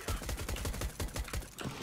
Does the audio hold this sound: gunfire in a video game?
yes